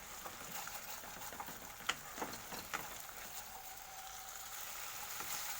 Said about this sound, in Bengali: মশলা থেকে তেল ছাড়তে শুরু করেছে। আমি একটু জাস্ট নাড়িয়ে নেব।